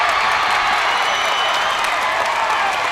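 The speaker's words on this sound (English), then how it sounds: "The crowd is going wild. It is deafening." A basketball crowd at a high school girls' game roars with sustained, deafening cheering and applause, a dense, unbroken wall of noise from start to finish.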